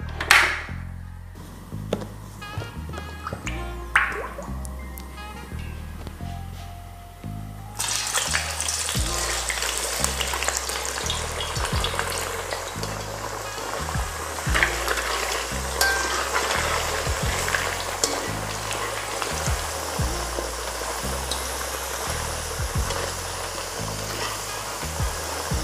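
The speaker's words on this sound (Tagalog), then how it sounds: "Iprito muna natin yung patatas at carrot." Potato and carrot pieces frying in a pan for beef caldereta: a few quiet clinks at first, then a loud, steady sizzle bursts in and hisses on without a break, close and with no voices.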